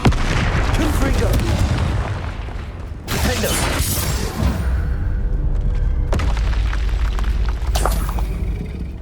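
Confringo fire spell explosions in Hogwarts Legacy come as loud booming blasts, several in succession over a continuous rumbling game backdrop.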